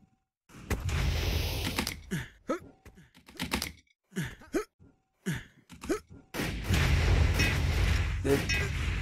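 Rockets explode in a Warfork arena match. Loud, roaring blasts open and close the stretch, with a commentator talking over the choppy game noise between them.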